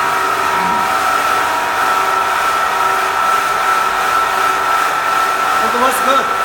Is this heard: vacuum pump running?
yes